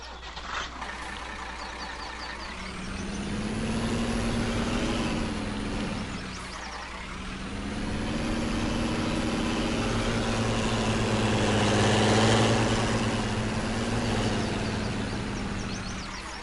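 A Fiat tractor engine runs at a steady idle with a low droning hum, swelling and easing in intensity over the span, with a brief dip midway and a hiss-like air release near the start.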